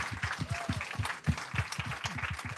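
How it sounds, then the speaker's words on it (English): Applause from an audience at a fellowship summit for the fellows after their presentations, a fairly faint, steady patter of many hands clapping with no talk over it. "can we just give one more round of applause to the fellows?"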